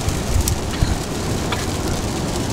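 Steady rain falling outdoors, a dense continuous hiss with a few brief louder drops and low rumbles, no voices present.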